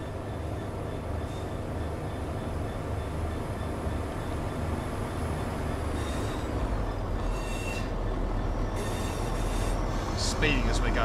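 In Train Sim World 4, a Southern Class 171 train rumbles past on a Marshlink service, a steady low rolling roar with wheel squeal and brief high screeches building near the end.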